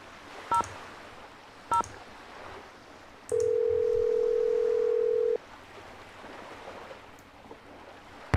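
A telephone is dialed in the Nancy Drew game Danger on Deception Island: two short keypad tones, then a steady, loud tone lasting about two seconds, over faint ocean ambience.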